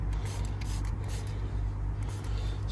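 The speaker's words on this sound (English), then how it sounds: "spray that on then, again building it up in layers." Short hissing bursts from an aerosol of wound sealer sprayed onto a koi's ulcer, several quick sprays over a low steady hum, close and fairly quiet.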